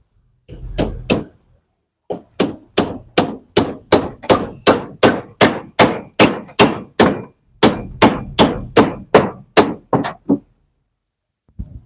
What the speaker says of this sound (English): I have to remove this and hammer